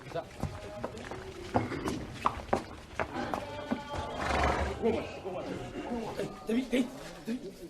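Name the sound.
white stallion horse neighing and hooves clip-clopping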